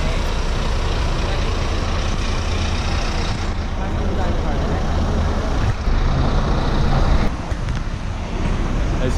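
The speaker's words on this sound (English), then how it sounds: "This is the poetry bus to Somerford." A community poetry bus bound for Somerford moves through Christchurch, Dorset, with loud continuous engine and road roar, a brief brake hiss late on, and people talking over the noise.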